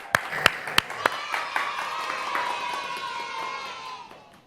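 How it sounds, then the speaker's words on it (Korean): During a live broadcast for a singer's comeback, a handful of crisp claps ring out close by, then the sound turns to softer scattered clapping and vocal sounds from a small group, fairly quiet overall. "박수 한번 주세요."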